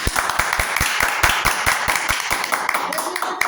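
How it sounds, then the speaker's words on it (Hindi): Audience clapping at a Hindi-language DXN health product talk, a burst of loud, dense applause with sharp individual claps throughout, steady and close. "एक बार हम चाहेंगे जोरदार ताली देने के लिए"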